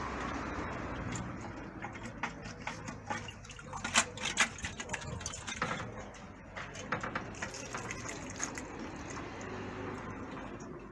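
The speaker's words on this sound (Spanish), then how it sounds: "vamos a enjuagar a ver cómo está quedando." Water swishing and splashing inside a glass bottle as it is rinsed, with irregular clinks and sloshes, close and moderately loud.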